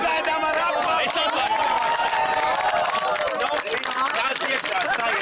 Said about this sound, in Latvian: Sagaidām ar aplausu.